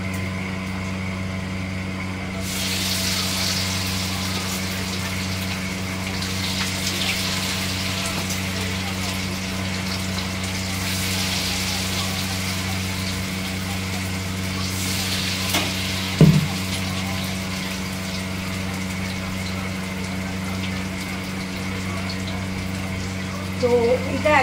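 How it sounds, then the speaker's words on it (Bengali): Chilli garlic chicken fries in hot oil in a kadai over a low flame, a steady, even sizzle that lasts the whole stretch, with a brief clatter partway through. "তেলটা গরম হয়ে গেছে অনেকটাই, আমি তেলটা একটু কড়াইয়ে গায়ে লাগিয়ে নিচ্ছি, লো ফ্লেম করে দিলাম। এবার আমি এগুলোকে ভাজবো"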